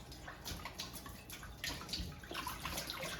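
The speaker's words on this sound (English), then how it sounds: "put it in a pot of cold water. So make sure the whole thing is submerged and then swirl it around" A head of romaine lettuce is swirled in a pot of cold water, giving quiet splashing and sloshing with small drips, close by and without speech.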